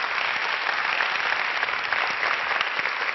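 An audience at a lecture event claps in a thick, continuous round of applause, close and steady for the whole stretch, with no speech over it.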